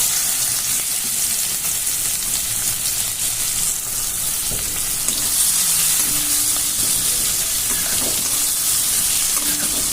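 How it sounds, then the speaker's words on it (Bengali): Bay leaf, dried chilli and panch phoron fry in hot oil, a steady crackling sizzle with occasional stirring sounds, continuous throughout. "পাঁচফোড়নটা ভাজা হয়ে গেছে।"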